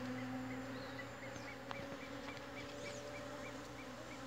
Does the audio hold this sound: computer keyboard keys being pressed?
no